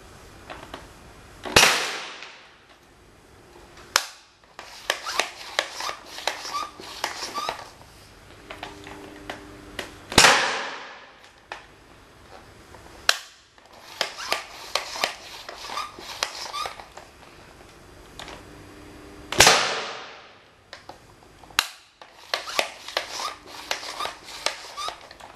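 A modified Nerf Air Tech 3000 blaster is pumped and fired repeatedly: sharp, close pops each followed by bursts of rapid plastic pumping strokes, the cycle recurring several times.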